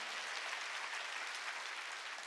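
A congregation at an evening church revival meeting claps together, a faint, even, distant wash of many hands sustained without pause or voices.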